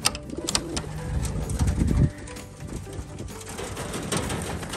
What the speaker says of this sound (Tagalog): So palabasin muna natin ito mga kalapatids.